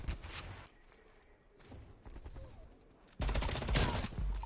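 FFAR rifle fire in Call of Duty: Cold War, with scattered shots early on and then a loud, dense burst of rapid automatic fire toward the end.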